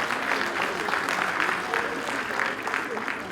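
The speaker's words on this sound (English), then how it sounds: "So round of applause for his presence here." An audience at a global HR congress applauds to welcome a speaker, giving a moderate, steady wash of clapping with voices mixed in.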